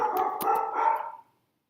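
A dog barks in the background of a room as the mailman arrives, a short run of muffled, overlapping barks at moderate distance, then it stops.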